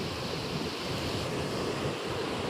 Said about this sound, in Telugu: చాలా బ్రహ్మాండంగా వెళ్తున్నాయి వాటర్